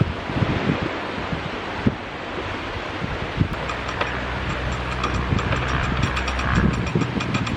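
Ratchet and pawl of a canal lock paddle gear clicking in rapid repeated bursts as the lock is emptied on a narrowboat trip, close and loud over wind buffeting the microphone.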